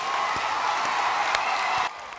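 An audience claps and cheers for teachers in a sustained wash of applause with a few louder claps scattered through it, then cuts down sharply near the end.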